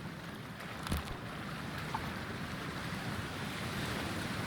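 Steady wash of toxic seawater waves from Cyberpunk 2077, a continuous broadband surf and wind rush with a brief louder splash near the start, no voices.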